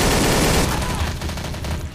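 Dense rapid gunfire from the video game Trouble in Terrorist Town, a rattling barrage of overlapping shots that stays loud and close throughout, thinning slightly toward the end.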